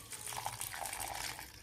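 Water is poured into a bowl of soaked vada mixture for thalipeeth batter, a brief steady splashing gush lasting the whole moment, close and fairly soft with no talk.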